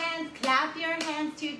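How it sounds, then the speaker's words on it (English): Hands clap in a few sharp, close bursts with short gaps between them, heard alone with no talking. "Clap, clap, clap your hands"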